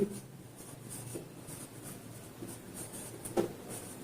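A pen writes by hand on paper during an accounting lesson, giving soft, steady scratching strokes up close with a slightly louder tap near the end.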